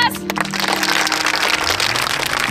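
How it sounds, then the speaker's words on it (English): A small group gives a round of applause for a house of friends, a quick burst of close hand claps rising after an opening crack and holding steady to the end. "let's give them a round of applause"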